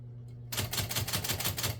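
The margin set on a 1965 IBM Selectric electric typewriter is pushed in. A steady motor hum runs throughout, then a quick, even series of crisp mechanical clicks starts about halfway through.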